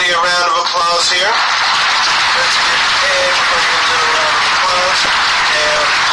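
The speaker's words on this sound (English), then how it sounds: "let's give everybody a round of applause here" A guitar class breaks into lively applause that carries on at steady volume, while a voice keeps talking over the clapping.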